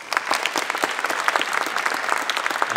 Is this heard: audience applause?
yes